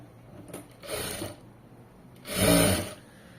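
A sewing machine stitching cloth in two short bursts of whirring, the second louder and longer, close by with quiet pauses between and no talking.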